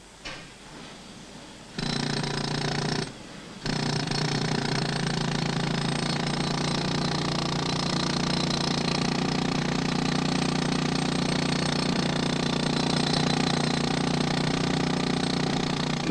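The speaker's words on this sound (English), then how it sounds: "Then they have to get up inside it, chip all the excess away from the walls." Pneumatic chipping hammer rattles continuously against slag stuck to the walls of a cast iron foundry furnace, a loud dense mechanical clatter that briefly stops, then runs on steadily.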